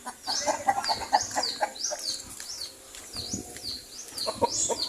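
Roosters on a small farm clucking and calling in short repeated bursts, fairly near, with other fowl sounds mixed in and a quiet spell midway.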